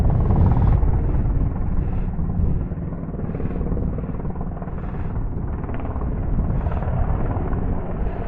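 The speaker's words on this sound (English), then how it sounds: "Helicopter." A helicopter flies overhead above Peak District hills, making a loud, steady rotor rumble with faint pulsing throughout and a wind-buffeted, open-air feel.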